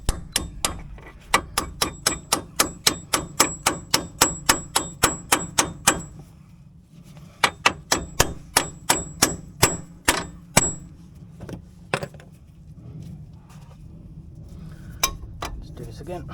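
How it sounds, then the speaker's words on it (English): A small hammer taps a socket on a 15mm nut under a Ford Mondeo Mk4 during front hub removal, quick steady rhythm, a sharp ringing clink on each strike, with pauses between bursts and a few scattered taps. "I'm going to tap the 15mm one with a socket with a hammer"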